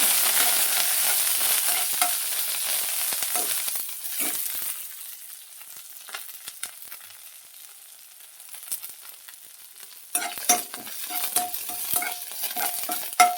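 Kiskara flowers fry slowly in ghee over a low flame, giving a steady hiss that fades to quiet mid-way before sharper sizzling and stirring scrapes return near the end.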